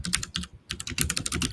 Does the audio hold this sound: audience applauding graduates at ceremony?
no